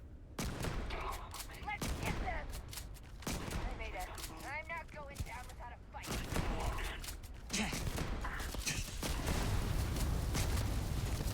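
Flechette rounds fired from the Vas31 shotgun, a Valor Armaments weapon in the video game Starfield, booming in dense, closely spaced blasts that run almost continuously, loud and near.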